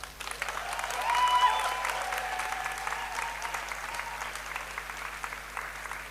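A hall audience at the Nyéléni Global Forum applauds steadily for about six seconds, swelling early and then holding an even, dense patter of many hands, with no voices over it.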